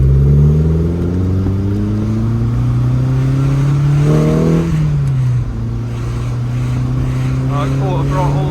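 A Lotus Elan restomod engine running steadily at quarter throttle, a loud close drone with a brief rise and dip in pitch midway, heard from inside the car while driving.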